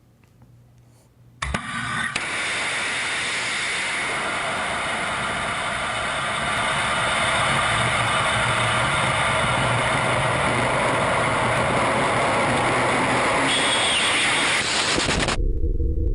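Launch of the Dalek rocket: a sudden loud roar starts after about a second and a half and holds as a steady, broad rushing blast for some fourteen seconds, then cuts off.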